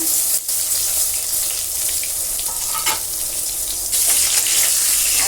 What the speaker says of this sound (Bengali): গরম হয়ে গেছে আমি ভাজি ভাজি করে নেব প্রত্যেকটা বেগুন আমি দিয়ে দিলাম